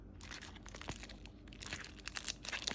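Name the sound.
plastic bag crinkling while unpacking agenda cover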